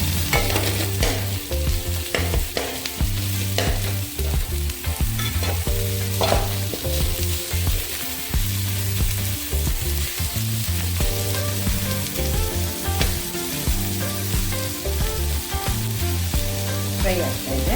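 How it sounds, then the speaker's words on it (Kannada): Onions and green chillies frying in a pan for chicken egg fried rice, a loud steady sizzle with rhythmic scraping and clattering of a spatula stirring throughout, over a low background hum, without any talking. "ಈಗ ಈರುಳ್ಳಿ ಹಸಿಮೆಣಸಿನ್ಕಾಯಿ ಫ್ರೈ ಆಗ್ತಿದ್ರೆ"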